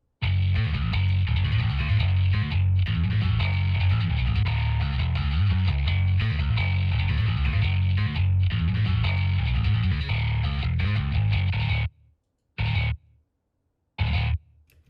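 Heavily distorted metal bass guitar plays a gritty, growling riff, loud and continuous, then breaks into a few short stabs separated by silence near the end.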